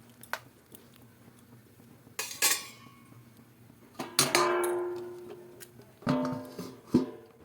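Drumstick curry in a pot, with sparse metal clinks and clatters of a spoon and lid against the vessel, several sharp bursts separated by quiet stretches.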